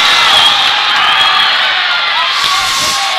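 A basketball crowd in a packed high school gym, Okarche at Watonga boys' game, cheers after Laird Whiteshield's dunk: a steady, loud roar of voices and whoops lasting throughout with no break.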